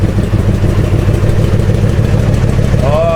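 A 1984 Honda Sabre VF1100 V65 motorcycle idles steadily after a carburetor rebuild, a loud, close, even low rumble with fast engine pulses, and a voice begins at the end.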